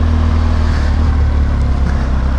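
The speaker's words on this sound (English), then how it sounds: "Look at all the bikes out there. Little sport bikes and they're all together" Several small sport motorcycles ride past together, their engines droning loud and continuous with a low, steady rumble throughout.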